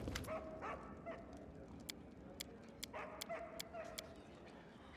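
Short yips and barks from a dog companion in the video game Pathfinder: Kingmaker, several quick calls spread over a few seconds beneath quiet game ambience and faint background sound.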